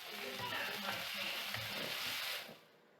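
Tomatoes sauté with golden onions in a pan for a chicken curry, a steady close sizzle with soft stirring scrapes that drops away abruptly near the end.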